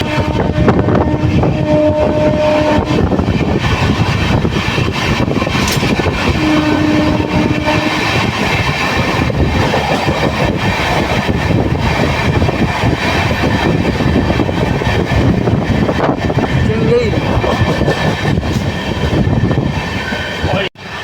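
The 12885 Aranyak Express, on its first run with LHB coaches, races past at speed with a loud, steady rumble and rattle, and faint wheel squeals run through it for about twenty seconds.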